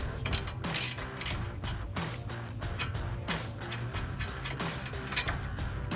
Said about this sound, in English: remove this brake line holder, and that can be done with your 10mm ratchet socket.